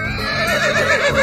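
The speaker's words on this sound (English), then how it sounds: "Horse." A horse gives one short, loud, close whinny with a wavering, quavering pitch, heard during a guess-the-right-door escape room challenge game.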